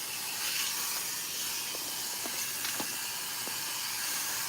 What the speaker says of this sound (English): I'm just rinsing out that B7 Beyond.